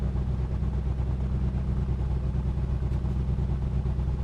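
Piston aircraft engine of an A2A Comanche 250 in Microsoft Flight Simulator, running rough on a faulty left magneto, a steady loud low drone with a slightly uneven pulsing throb, heard alone.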